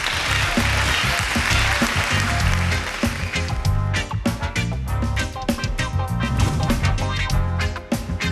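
A studio audience on a TV singing competition applauds loudly at first, then the clapping gives way to punchy music with a strong beat.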